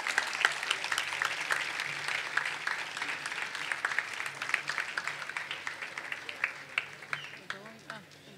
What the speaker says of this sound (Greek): Νομίζω πως για να κατέβουν θέλουν ακόμα πιο θερμό χειροκρότημα.